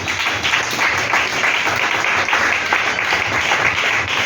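A church congregation applauds and acclaims the Lord in a dense, steady wash of clapping and crowd noise that fills the room for several seconds without a break.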